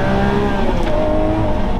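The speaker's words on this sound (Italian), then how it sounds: "questo 12 cilindri merita di essere goduto e ascoltato nel migliore dei modi" A Lamborghini Aventador Ultimae's V12 engine drones loudly and steadily while driving in sport mode, heard from inside the car as a dense, continuous engine roar with no talk.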